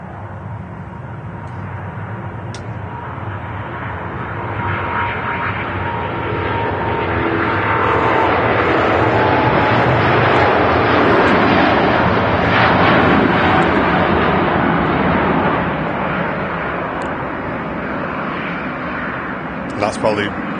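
A Singapore Airlines airliner on its take-off roll at Manchester Airport, a broad engine roar swelling steadily to a loud peak mid-way and then easing off as it passes, with people talking faintly in the background.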